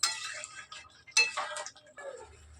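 A spoon clinks and scrapes against a pot while chicken curry with tomatoes and fried potatoes is stirred, with light metallic taps in short bursts, close and moderately loud, followed by a faint low rumble.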